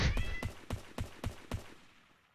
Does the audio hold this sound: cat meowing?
yes